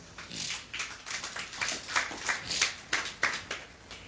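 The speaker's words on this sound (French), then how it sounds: "Tenons-nous debout, nous acclamons le Seigneur." A church congregation claps together in a steady rhythm while acclaiming the Lord, a moderately loud run of hand claps at a regular beat with no voices standing out.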